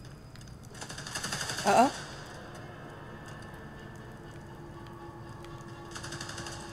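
Gunfire in the Spider-Man: Miles Morales video game: a rapid automatic burst builds to a peak in the first two seconds, then quieter background, with another faint rattle near the end and a person briefly speaking.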